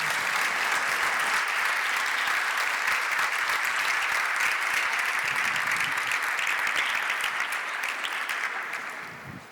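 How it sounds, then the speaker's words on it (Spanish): Sustained audience applause for a speaker introduced at a Macaronight 2023 evening session, a dense steady wash of clapping that holds for about nine seconds before tapering off at the end, with no voices over it. "Un fuerte aplauso para ella."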